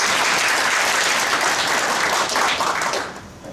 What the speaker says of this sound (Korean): 박수를 좀 쳐주시면